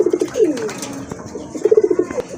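A pair of desi pigeons coo at a large pigeon farm, close and clear, with a few throaty rolling coos and a quick pulsing burst near the end.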